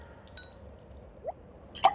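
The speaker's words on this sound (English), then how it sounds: "Drips." Cartoon water drips fall in a quiet setting, first a single bright plink and then a second drip near the end, with a faint squishy sound between them and no speech.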